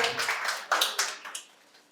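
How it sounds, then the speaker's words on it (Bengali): Applause for a prize winner at a medical college quiz competition in Santiniketan, a short burst of hand claps that fades out within two seconds, moderately near. "ওর জন্য আবারও একটা জোরে হাততালি হয়ে যাক।"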